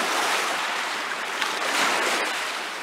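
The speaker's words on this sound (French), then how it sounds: "le bruit des vagues est quand même assez fort" Steady broadband wash of ocean waves breaking on a beach during a heatwave, loud and close, continuous roar without pauses or voices.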